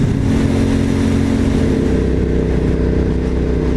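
An Aprilia SB1 motorcycle engine runs loud and close in a steady, throbbing drone that holds unbroken throughout.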